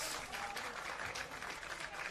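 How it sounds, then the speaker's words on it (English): Spectators at a National Premier Leagues Victoria football match between Moreland City FC and Avondale FC give a short, distant patter of applause, heard faintly against open-air crowd ambience. "Pleasant applause for Massimo D'Argenio, who cuts that one out"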